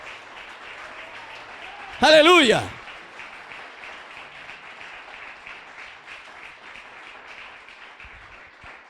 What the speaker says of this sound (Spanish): Dale un aplauso glorioso al Señor